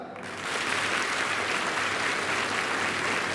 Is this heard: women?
yes